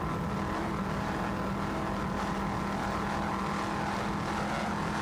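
Racing powerboats roar across bumpy waters in the Gulf of Mexico during a 1994 South Padre powerboat Grand Prix, a dense, continuous engine drone that is loud and steady, with no voices.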